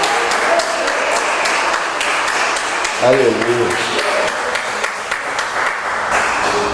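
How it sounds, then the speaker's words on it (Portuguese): A church congregation applauds in praise, a dense steady clapping throughout, with a brief sung or spoken exclamation rising in the middle. "Nós podemos aplaudir o Senhor e dizer glória a Deus."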